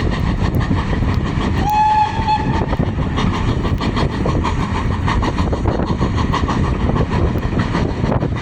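A vintage steam train on the Keighley & Worth Valley Railway rumbles past loud and close with rhythmic clatter over the rails, and a brief whistle sounds early on.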